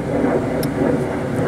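Steady broad engine roar of an airplane climbing out after leaving a nearby airport, passing overhead outdoors near a backyard birdhouse, continuous and moderately loud with no talk.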